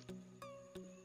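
Stingless klanceng bees inside a wooden hive box give off a faint, steady buzzing hum, with a few soft knocks repeating roughly every third of a second.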